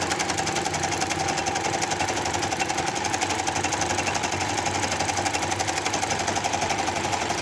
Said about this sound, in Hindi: अब सेम इसी तरीके से मैं इसका दूसरे पांचे को भी सिलाई लगा लूँगी